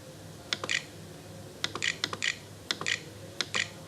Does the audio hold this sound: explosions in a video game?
no